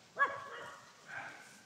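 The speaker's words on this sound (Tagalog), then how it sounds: "sa kahol ng aso" A dog gives a short bark, then a second softer yelp-like bark about a second later, both fairly close and brief.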